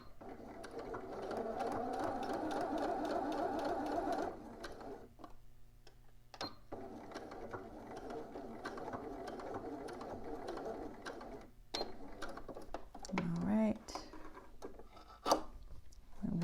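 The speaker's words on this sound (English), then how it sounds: "I'm gonna stitch, making sure I back stitch" A home sewing machine stitches bodice seams with back stitching, a steady close mechanical whir that stops briefly and restarts in bursts, with quiet handling rustles and clicks between runs.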